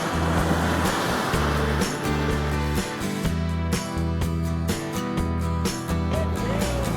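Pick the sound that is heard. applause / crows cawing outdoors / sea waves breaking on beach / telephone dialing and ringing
sea waves breaking on beach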